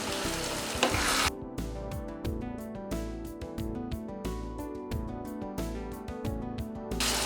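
Beef pieces for kala bhuna sizzle steadily in a hot pan, a continuous close frying crackle with no talking.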